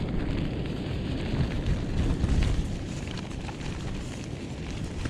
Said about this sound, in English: Go figure, I moved my ruck for a minute and a big gust comes.